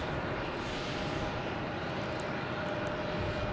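A JetBlue Airbus A320 roars at Logan Airport at night, a steady, broad jet-engine rumble and whine that holds constant and loud throughout, with no one speaking.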